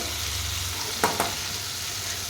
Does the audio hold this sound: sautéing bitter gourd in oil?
yes